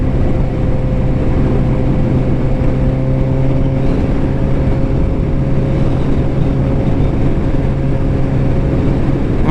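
A motorcycle ridden through the Tennessee hills runs loud and steady, its engine drone holding constant with no breaks.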